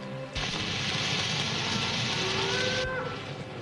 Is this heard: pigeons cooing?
no